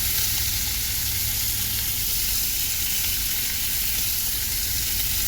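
Bacon strips sizzle loudly and evenly in a pan during cooking inside a car, a dense continuous crackle with no voices over it.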